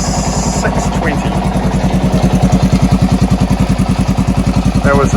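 A Honda TLR200 trials motorcycle idles at around 620 rpm, a steady, close, loud low thump with rhythmic firing pulses throughout, with some clatter and faint voices underneath.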